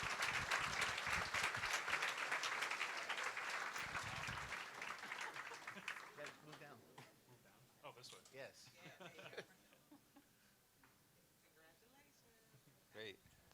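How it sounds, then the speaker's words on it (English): Convocation audience applauding loudly at first, a dense wash of clapping that thins out over several seconds into scattered claps and a few faint voices, with a brief final burst near the end. "Let's give them a warm round of applause."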